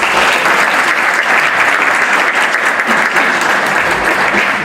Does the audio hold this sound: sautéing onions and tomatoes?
no